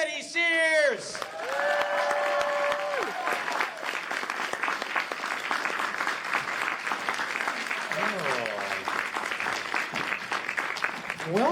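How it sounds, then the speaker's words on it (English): Comic con crowd at Wizard World Portland applauding guests Nick Zano and Teddy Sears, a loud, sustained roar of clapping and cheering that follows a brief spoken introduction and carries on steadily, with a few scattered voices rising above it. "a big Wizard World Portland round of applause for Mr. Nick Zano and Teddy Sears"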